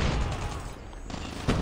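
Grenade explosion and gunfire in the mobile shooter game Call of Duty Mobile battle royale, a short burst of loud crackling blasts that dips briefly and then ends in a final sharp hit.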